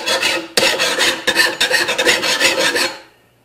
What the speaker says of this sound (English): To sharpen your blade, you can get a file and spend a lot of time just going back and forth and back and forth.